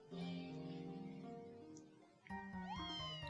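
A cat meows in the video game Fantasy Life, a long, drawn-out wail, then a second, higher meow follows after a brief pause, clear and close.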